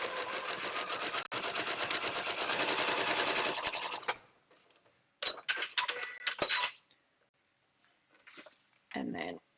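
A sewing machine fitted with a straight stitch plate runs a short straight stitch along a drawn line, a fast steady whirring chatter for about four seconds, then short stop-start bursts with quiet gaps.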